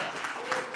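Audience applause at a retirement celebration: a short burst of scattered clapping from a crowd, moderately faint and steady, with a voice faintly underneath.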